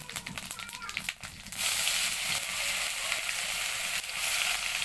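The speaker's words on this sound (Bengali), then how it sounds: "শুকনো মরিচ দিয়ে হয়েছে, তেজপাতা, জিরে দেওয়া হয়েছে" Dried chilies, bay leaves and cumin sizzling in hot oil, a loud steady hiss that swells after a brief quieter start and continues alone.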